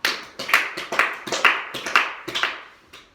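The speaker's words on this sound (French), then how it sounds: "Applaudissez-vous 6 fois." A classroom of students claps in unison six times, each sharp collective clap followed by a short decay, evenly spaced and moderately close, with no talking.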